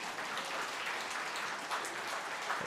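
A church congregation gives a quiet, continuous round of applause during a morning worship service, a soft, even patter of many hands heard from a distance with no voices.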